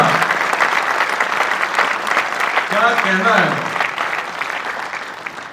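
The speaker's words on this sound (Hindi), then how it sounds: "जोरदार तालियां अमन अख्तर के लिए" Lively crowd applause for a poet at an All India Kavi Sammelan poetry gathering, sustained clapping from many hands with a voice calling out briefly in the middle as it slowly tapers off.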